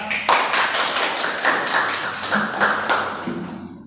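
A classroom of students claps hands together in a dense, fairly loud burst that keeps a loose rhythm and slowly fades over a few seconds.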